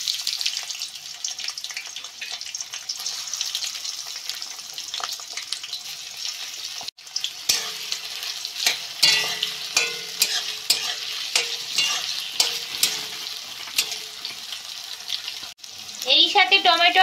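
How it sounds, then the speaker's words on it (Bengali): Sliced onion hitting hot oil already seasoned with cardamom, cloves, cinnamon and a bay leaf for a chicken-feet masala, giving a steady loud sizzle with scraping stirs and clinks that intensify partway through. "পেঁয়াজটা দিয়ে দিচ্ছি এতে আমি।"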